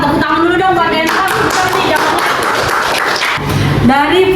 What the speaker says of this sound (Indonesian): tepuk tangan dulu dong buat Dentang.